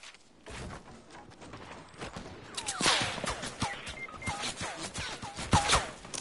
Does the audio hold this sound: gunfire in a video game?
yes